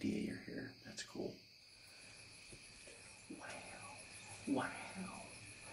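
Faint, steady trilling of crickets and high chirps of spring peepers and tree frogs form a quiet night chorus in New York woods, with a few soft nearby rustles and clicks.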